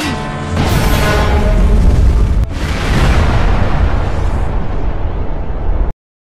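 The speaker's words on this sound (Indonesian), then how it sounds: "Adler memberi perintah untuk menembakkan meriam" A cannon fires with a loud, booming blast, followed by a long rolling rumble that fills the air before cutting off abruptly.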